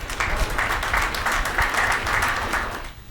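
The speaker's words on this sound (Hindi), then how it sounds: "गलत जगह ताली बजाई है आपने" An audience at a comedic poetry recital breaks into a sustained round of clapping that swells and holds for about three seconds before fading, with a faint voice underneath.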